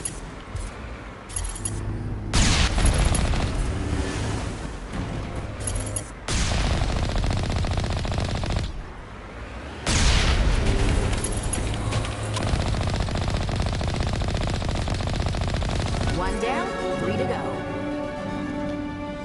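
Rapid automatic gunfire in the Mass Effect video game, several loud bursts separated by short pauses, with game voices and effects mixed in.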